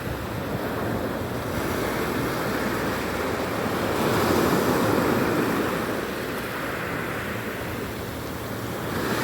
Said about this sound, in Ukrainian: Ми бачимо хвилі одна за одною